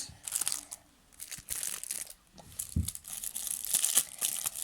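Foil trading card packs of football players being torn open and crinkled, bursts of crackling and crunching paper up close, with a few soft handling bumps in between.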